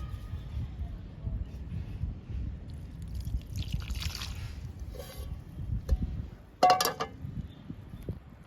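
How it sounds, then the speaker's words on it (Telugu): Liquid fertilizer is splashed onto chrysanthemum plants in uneven dribbles and soft splatters, ending in one sharper, louder splash. "చామంతి మొక్కల పైన చల్లాను, చామంతి మొక్కలకి ఇచ్చేసాను లిక్విడ్ని"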